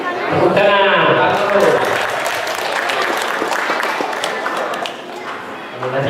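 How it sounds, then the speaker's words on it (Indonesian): Applause fills a hall at the closing ceremony of a provincial governor's cup chess championship, loud sustained clapping from a crowd that tapers slightly near the end, with voices mixed in. "Tepuk tangan."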